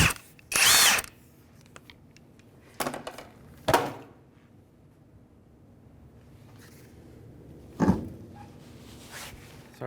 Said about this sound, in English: To remove our wheel, it's going to be a 19mm socket. I'll take our wheel off now.